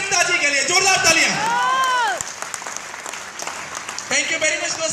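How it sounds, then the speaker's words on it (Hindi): Audience applause at a motivational seminar, loud clapping and crowd noise that starts under a drawn-out voice and then continues as a steady patter to the end. "मैं चाहूंगा कि जोरदार ताली मेरा गुरु, मेरे अपलाइन मिस्टर अभिषेक गुप्ता जी के लिए जोरदार तालियां"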